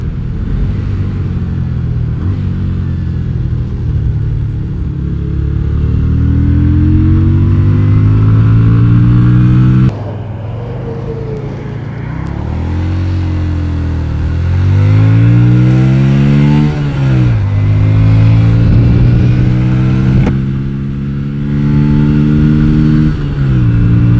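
Yamaha Virago XV250 bobber with a 40-tooth rear sprocket accelerating on a highway ride, its engine note rising through the revs, dropping at each gear change and climbing again, loud and close throughout.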